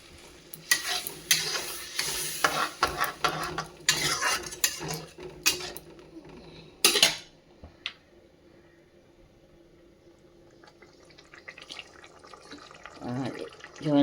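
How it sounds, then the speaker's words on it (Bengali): Warm water poured into a pan of sizzling fish masala with onions, stirring and utensil clatter loud at first, then settling into a quiet simmer with a brief spoon scrape near the end. "আর একটুখানি আমি জল দেব"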